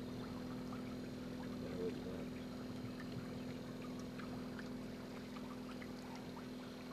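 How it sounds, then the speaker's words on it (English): A boat motor runs on a bowfishing boat out after alligator gar, a steady droning hum that holds without a break throughout, with faint voices and a bit of background noise over it. "You guys want me to kill this motor?"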